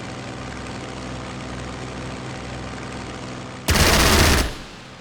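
An aircraft strafing in the strategy game Strategic Mind: a steady engine drone runs throughout, broken near the end by one short, loud, harsh burst of machine-gun fire that quickly fades.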